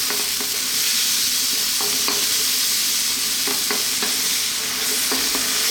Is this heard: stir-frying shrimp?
yes